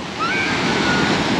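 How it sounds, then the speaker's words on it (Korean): Strong ocean waves surge and wash onto a black sand beach in Monterrico, Guatemala, a loud, steady roar of surf swelling after a brief moment, with no talking. "여기 파도가 진짜 세서 여기서는 해수욕을 하면 안 된다고 하네"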